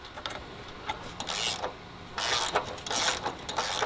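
Bolts on a freshly painted, home-built sway bar bracket being tightened with a hand tool, giving bursts of close mechanical clicking and ratcheting with short pauses between strokes.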